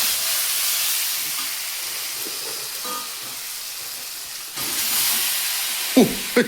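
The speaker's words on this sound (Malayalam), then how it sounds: "ഇനി നമ്മൾ വേവിച്ച് വെച്ചിരിക്കുന്ന ചക്ക ഇതിനകത്തേക്ക് ഇട്ട് ചറപ്പറ ഇളക്കി കൊടുക്കാം" Cooked jackfruit is tipped into a chili mixture with mustard seeds and curry leaves and stirred in a hot pan, giving a steady loud sizzle and hiss that surges, followed by a couple of brief clatters.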